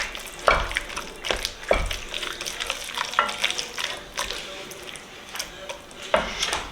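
Smoked baked beans are stirred in a pot with repeated thick, wet scrapes and dull knocks of the spoon against the side, in an irregular rhythm.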